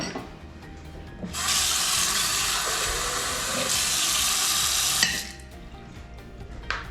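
Water gushes from a tap into a cup, starting abruptly, running steadily and loudly for about four seconds with a slight shift in tone midway, then cutting off.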